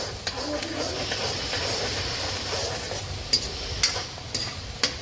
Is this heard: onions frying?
yes